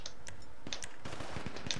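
Rapid gunfire from GTA V Online, casino DLC mission, crackles in sharp bursts of shots in quick succession, close and punchy, with no talking over it.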